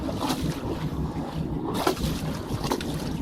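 With the hatch open, a boat engine idles inside a Haines 400 medium vee planing hull, giving a smooth, steady low hum mixed with wind and water noise, heard up close without talking.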